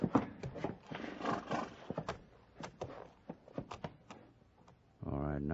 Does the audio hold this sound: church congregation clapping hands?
no